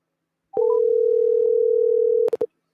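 A steady single telephone dial tone holds for almost two seconds while calling back scammers, preceded by a short rising chirp and ending in clicks and two brief beeps, loud and close.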